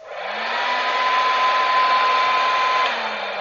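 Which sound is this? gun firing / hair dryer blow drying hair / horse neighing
hair dryer blow drying hair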